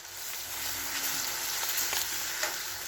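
Onions frying with ginger paste, chili powder and turmeric powder in a pan, a steady close sizzle with faint scraping stirs now and then, no talking.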